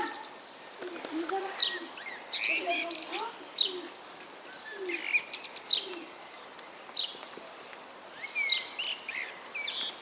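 Soft, low cooing notes of a turtle dove repeat in short phrases among bright chirps from other birds, moderately near, with some distant speech.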